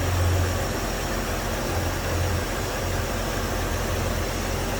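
A 1965 Chevrolet C10 truck's inline-six engine idles steadily and smoothly, a low even rumble close by with a faint hiss and no voices.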